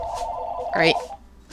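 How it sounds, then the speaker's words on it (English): A telephone rings once in a short electronic burst beneath a voice, with a faint steady tone lingering behind it. "That's my phone."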